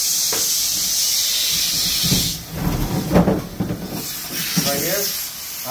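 An HVAC blower wheel spins while being sprayed clean, a loud continuous hiss of spray that breaks into uneven bursts and splashes partway through, with faint voices in the background.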